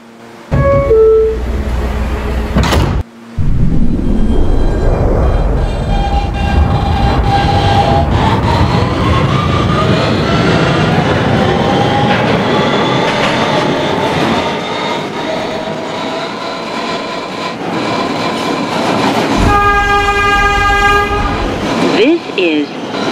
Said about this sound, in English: This is a Brooklyn-bound N local train. The next stop is 14th Street, Union Square. Stand clear of the closing doors